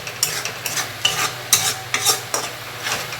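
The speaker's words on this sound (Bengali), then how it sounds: "এবার এই যে মশলাটাকে আমাদের কিন্তু খুব ভালো করে কষতে হবে।" Spice paste for prawn bhuna is stirred and fried in a pan, each scrape of the spoon coming in steady strokes over a constant sizzle, close and fairly loud, with no talk.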